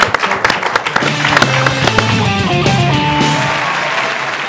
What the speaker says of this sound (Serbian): molim vas, još jedan aplauz za Aleksandra